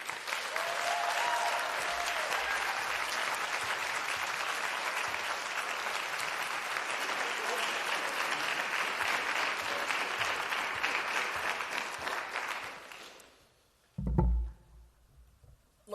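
A crowd at a conservative rally in Minnesota applauds Scott Presler, with loud sustained clapping from many people lasting over ten seconds before fading, followed by a brief thump.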